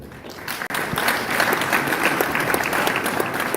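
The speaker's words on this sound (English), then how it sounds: "with a round of applause, we welcome our first speaker, Ms. Elizabeth." A room full of people claps steadily, a dense and fairly close round of applause that holds at an even level throughout.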